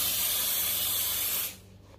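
Steady aerosol spray hissing up close from underneath something for about a second and a half, then cutting off abruptly, leaving only faint background.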